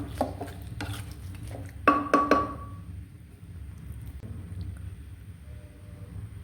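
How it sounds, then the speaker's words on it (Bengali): Pieces of country chicken are stirred and fried in a pot with a spoon, making several close metallic scrapes and clinks over a low, steady sizzle. "নেড়ে চেড়ে দিচ্ছি আর কষিয়ে নিচ্ছি ভালো করে"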